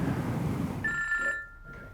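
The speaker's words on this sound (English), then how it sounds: "I'm going to phone Abby." A telephone rings once partway through, a short bright electronic trill following a stretch of low muffled rumble, then fading.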